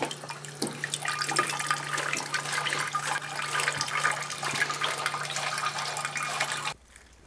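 Liquid from mashed barley for whisky drains steadily in a continuous watery trickle and splash, running evenly at moderate level before stopping abruptly near the end.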